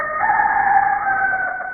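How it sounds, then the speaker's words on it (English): A neighborhood cockerel crows once, a loud sustained call with clear harmonic tones holding steady for under two seconds, with no talk over it. "When the neighborhood cockerel crowed,"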